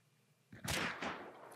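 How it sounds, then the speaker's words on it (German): A single loud gunshot in the Hunt: Showdown video game cracks out after a quiet lead-in, with a sharp onset and a short echoing tail that fades over about a second. "Ich krieg genau aus deiner Richtung einen Schuss."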